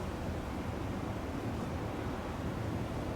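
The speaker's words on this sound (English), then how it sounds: "And the waves." Ocean waves on a beach at a private island resort in the Maldives make a steady, even wash of surf with wind-like hiss that holds at a constant level throughout.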